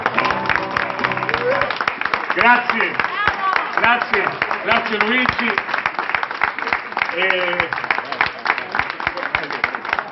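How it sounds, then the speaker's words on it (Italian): Audience applause at a singer-songwriter event in Taormina, Sicily, a dense, steady patter of clapping lasting throughout, with someone speaking and voices carrying over it. "Che questi applausi diventino tante migliaia"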